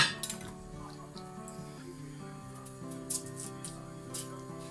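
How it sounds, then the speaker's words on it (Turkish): Quiet clinks and a metallic clatter of a pot lid being set down, with soft kitchen clinks afterward over a low steady hum. "Şimdi kapağını da kapatalım."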